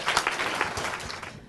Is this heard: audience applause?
yes